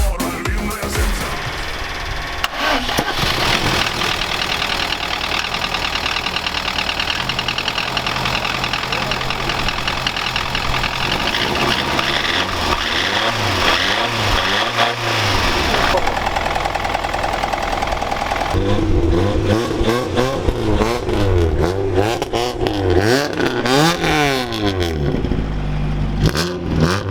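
A Lada Priora engine with a knocking fault and a suspected first-cylinder gasket problem runs close by, idling with a steady rattling knock and rising in a few revs, while people talk over it.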